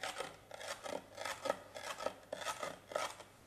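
Knife cutting vegetables, a run of roughly a dozen short scraping, crunching strokes in a quick, fairly regular rhythm, close and quiet, with no talking.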